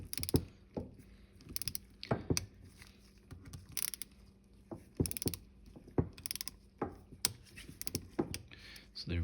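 Torque wrench clicking as bolts on a quad assembly are tightened to 55 inch-pounds in a crisscross pattern, sharp ratcheting clicks coming in irregular bursts close by, with faint mechanical handling between them.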